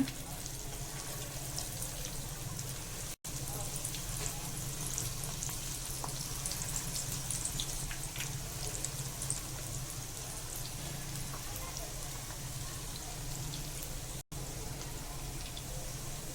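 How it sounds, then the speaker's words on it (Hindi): Steady, dense sizzling of sweet corn fritters frying in hot oil, a continuous crackle with no talking. "ये हमने इसको फ्राई करने के लिए डाल दिया है।"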